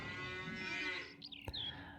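Cows moo in a Farming Simulator 19 barn on an Italian map, one long, loud, drawn-out bellow filling most of the moment before it breaks off into a short, softer call near the end.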